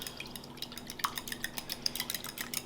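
A whisk or fork beating an egg mixture in a bowl for banitsa pastry, a quiet stream of light clicks and wet slaps repeating quickly and close up.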